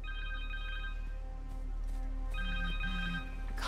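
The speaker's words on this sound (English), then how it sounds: "Connors' cell phone." A cell phone rings in the Spider-Man 2 video game, its electronic ringtone repeating in short patterned bursts over a steady game background hum, fairly close and alone without talk.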